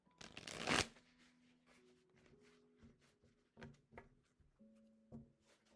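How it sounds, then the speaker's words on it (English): Tarot cards being shuffled by hand, one loud riffle of the deck followed by several softer taps and slides of the cards, with a faint steady tone in the background and no talking. "Let me just give these a quick shuffle."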